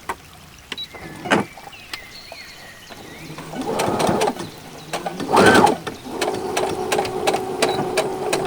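A sewing machine stitches along a small fabric tab from end to end in short bursts of fast mechanical whirring, separated by pauses with light handling clicks, close by.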